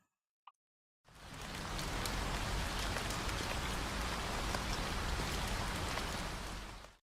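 Rain drums steadily on a truck cab in American Truck Simulator, a loud dense wash of drops starting abruptly after a brief click and holding evenly to the end.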